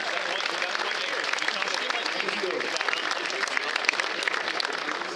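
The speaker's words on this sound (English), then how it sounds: "let's give a nice round of applause to Mayor Sarno" A packed baseball Hall of Fame induction crowd applauds the mayor with a thick, continuous wash of clapping, even in level from start to finish, with voices blending into the noise.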